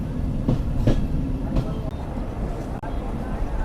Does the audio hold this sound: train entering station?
yes